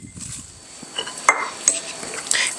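Maraschino cherries and walnuts folded into quick-bread batter in a bowl: soft scraping and stirring, then a few sharp clinks of a utensil against the bowl, close and fairly loud, with no talking.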